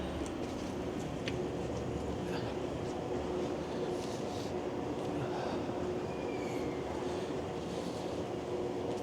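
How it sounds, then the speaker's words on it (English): A steady, loud rumble of a subway train in Queen subway station at Yonge and Queen fills the whole stretch, with faint screeches and clatter over a constant low drone. "This is Queen subway station."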